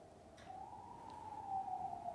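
A siren wails faintly in the distance outside, a thin, rising tone that holds and grows slightly louder, with no talk over it.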